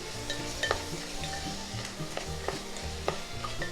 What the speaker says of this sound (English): We'll give it a stir.